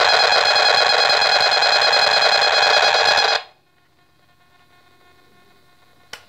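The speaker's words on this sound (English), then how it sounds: "You'll hear a huge amount of noise, that's the radiation" A radiation detector near a wireless baby monitor gives a loud, dense, continuous electronic hiss and buzz for about three seconds, then cuts off abruptly to near silence once the monitor is unplugged.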